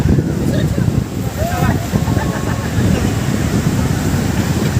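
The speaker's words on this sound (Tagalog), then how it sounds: "Ayun na yung alon dito." Ocean waves at Coronacion Beach in Real, Quezon, a rough continuous wash of surf mixed with wind buffeting the microphone, close and fairly loud, with people talking over it.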